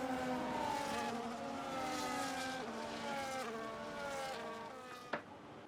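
F1 cars on the formation lap at Bahrain in a racing game, a steady high-pitched engine whine with shifting harmonic tones as the car changes gear, ending in a brief sharp click.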